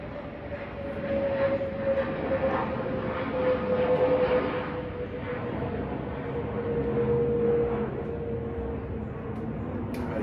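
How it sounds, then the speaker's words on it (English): A plane passes overhead as a steady, broad rumble with a faint droning tone, holding at moderate loudness for the whole stretch with no talk over it. "So sorry about the plane."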